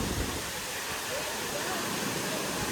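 Savat Kada waterfall in Rajapur, with spray drifting through the air, sends out a steady, dense roar of falling water that fills the whole clip evenly and close by, without breaks.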